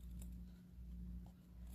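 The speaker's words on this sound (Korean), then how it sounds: "가위집을 넣고" Scissors snip notches into fabric during a handmade flower-gat keyring and brooch craft, a few soft, faint, close snips in a quiet room.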